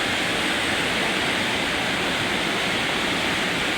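Heavy rainwater pours steadily off a roof with no gutter during a downpour in Dasmariñas, Cavite, splashing below in a dense, continuous hiss that stays close and even throughout.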